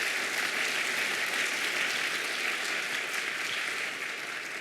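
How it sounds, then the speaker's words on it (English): Dense, steady applause from a meeting audience fills the whole stretch at even strength, tapering only slightly at the end, with no talking over it. "so let's give them a round of applause."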